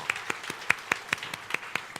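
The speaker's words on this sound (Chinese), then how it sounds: "好，给他们掌声鼓励哦。" At a Father's Day youth Sunday church service, the congregation applauds the fathers with sparse, evenly paced claps, about ten distinct hand strikes in quick rhythm, fairly close and moderately loud.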